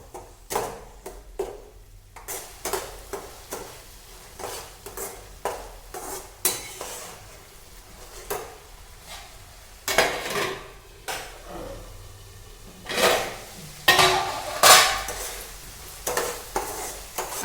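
Onion masala with garlic-ginger paste is sautéed in a pan for egg curry: a spoon stirs and scrapes in uneven strokes with metallic clinks over a low sizzle of frying.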